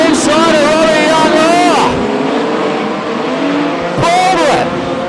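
Modified sedan race cars roar around the clay oval at Archerfield, engines revving and tires squealing as they slide, loud and close, with a commentator talking over the action.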